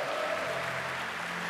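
A church congregation claps together at a worship service, a dense, even patter of applause that holds steady without a break.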